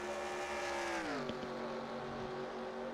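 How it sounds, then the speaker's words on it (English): F1 car engines using NASCAR-style sound in the racing game NASCAR Racing 2003 at COTA, a steady droning engine note that drops in pitch as it downshifts, then holds a constant roar. "I just realized the F1 cars have the sound of NASCAR"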